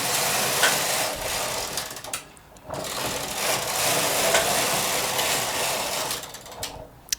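A knitting machine working rows of yarn at tension 6: steady rasping, clattering carriage sweeps with brief pauses between passes, close and fairly loud with no talk.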